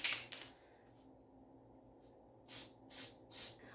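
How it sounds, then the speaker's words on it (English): Edible gold glitter spray from an aerosol can misted onto a king cake in a home kitchen, two short hissing bursts at the start, a pause, then three more quick bursts close to the microphone. "I also have this edible gold glitter spray, so I'm going to spray a little bit of that on the yellow"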